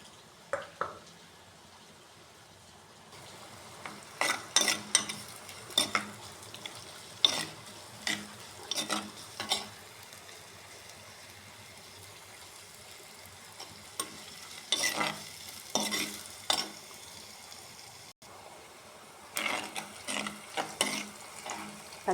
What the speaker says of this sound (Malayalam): എണ്ണ ചൂടായി വരുമ്പോൾ ഉള്ളി ഇട്ട് കൊടുക്കാം.